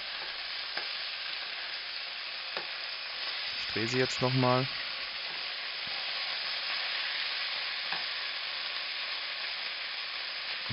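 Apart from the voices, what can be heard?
beef roulades frying in a pan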